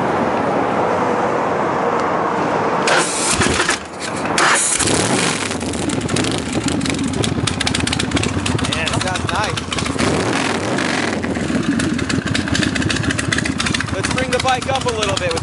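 A 2005 custom Texas chopper motorcycle fires up with a sharp crank and catch, then settles into a loud, throaty, steady idle close by, while people talk over the engine.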